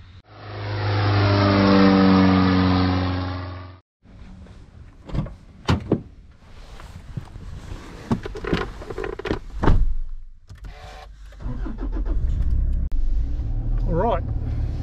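A car engine runs with a steady, loud drone for a few seconds, then cuts out and is followed by sharp door thumps and clunks, with shuffling and faint voices before a drive to the airport.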